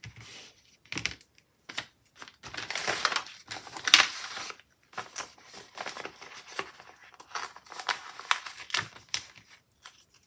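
Paper is trimmed and handled while decorating a pink and green Happy Planner spread, with close, dry snips, rustles and crinkles arriving in irregular bursts separated by short silences.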